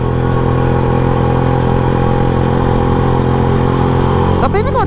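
A classic motorcycle engine rumbling steadily while being ridden, a loud, continuous low drone with a brief rattle near the end.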